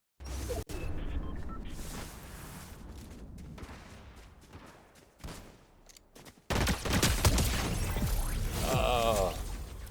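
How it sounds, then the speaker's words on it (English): A hyperburst pistol firing in the Fortnite video game: rapid bursts of gunfire crackle over busy game noise, growing denser and louder toward the end. "Let's go get him with this hyperburst pistol"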